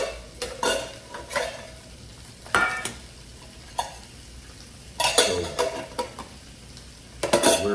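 Military combat ration food frying in a small camp frying pan outdoors, with bursts of sizzling alternating with scraping and stirring clatter of a utensil against the pan, close and moderately loud.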